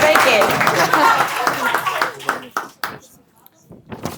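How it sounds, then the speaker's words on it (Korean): Clapping from a small audience at a tenth-grade thesis presentation, a dense burst of applause that thins into scattered claps within a couple of seconds, with people talking over and after it. "박수 주세요"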